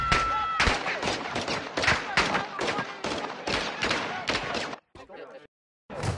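Rapid gunfire in a Call of Duty: Modern Warfare 2 battle, loud repeated bursts of automatic shots in quick succession, breaking up into sparse cracks and a brief silence at the end.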